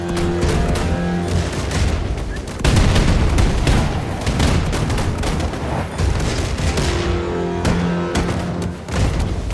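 Heavy gunfire from bigger guns in a video game battle against a giant Nazi death machine, loud continuous volleys of shots and booming blasts with no break, dense and close throughout.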